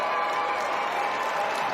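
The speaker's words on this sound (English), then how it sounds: "Nice round of applause from the fans here. Standing ovation from the Albany fans." Basketball fans at a state title game between Providence Academy and Albany applaud in a standing ovation, a steady wash of clapping from a crowd that runs throughout.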